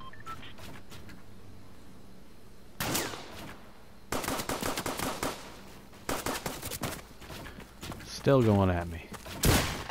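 Gunfire bursts in a shooting video game crack out in several sharp clusters, including sniper shots, close and loud, while someone talks over and between the shots.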